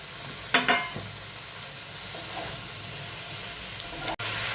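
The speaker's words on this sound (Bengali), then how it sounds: "ফুলকপিটা সেদ্ধ হওয়ার ব্যাপার আছে তাই কপিটাও এখন দিয়ে দিলাম" Cauliflower added to a frying pan with cumin, ginger and chili, giving a steady sizzle and hiss with a couple of scraping stirs near the start, close and alone without speech.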